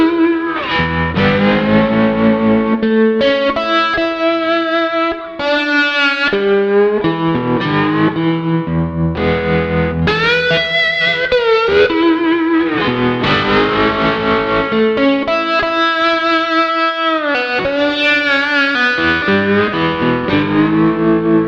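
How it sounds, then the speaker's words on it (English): Overdriven electric guitar through a tremolo patch with delay and reverb, played for slide guitar, rings out loud and continuous in pulsing, shimmering phrases with echoing tails. "This is my overdriven tremolo patch."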